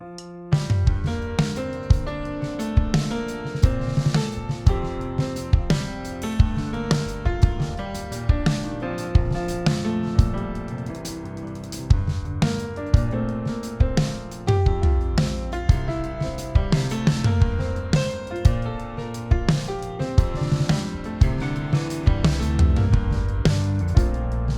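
Piano mixed through a Modern Pop Piano plugin preset, playing alongside punchy drums and a few synths in a full, busy pop arrangement, loud and continuous without vocals.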